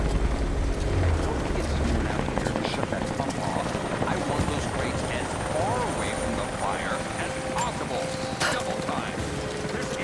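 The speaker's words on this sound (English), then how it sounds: "That was Constantine's chopper." A helicopter's rotor chops steadily and loudly throughout in the Rise of the Tomb Raider video game, with voices talking over the continuous engine drone.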